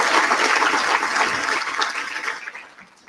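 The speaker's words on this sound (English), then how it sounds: "How about one more round of applause for this amazingly talented group of you?" Audience applause for a group of music students at a county address event, a dense steady wash of clapping that fills the space and gradually tapers off toward the end.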